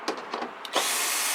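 A power drill spins out 10 mm bolts on a Toyota during a headlight install, starting with a few short bursts before settling into a steady close-up whir that runs to the end.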